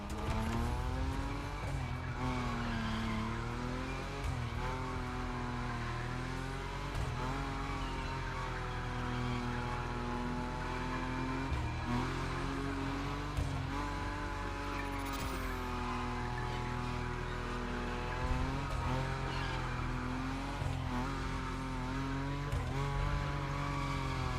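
Nissan Nismo drifting at high speed in the racing game The Crew Motorfest, a steady engine drone with tires sliding and squealing continuously throughout, loud and close with no speech.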